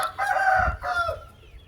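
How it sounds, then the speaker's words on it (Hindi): A rooster crows among hens on an Australorp, Desi and Aseel poultry farm in Pakistan, one close, loud crow in two drawn-out phrases with faint clucking and low background rumble. "ये मुर्गी और मुर्गे इसमें तकरीबन मिक्स ही हैं।"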